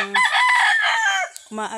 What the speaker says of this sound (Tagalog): Manok ko mga idol. Pangsabong to mga idol pero hindi ako nagsasabong.